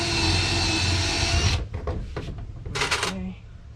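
Power driver whirs as it sinks a screw into a pre-drilled plywood trailer board, then stops, followed by scattered clicks and handling knocks.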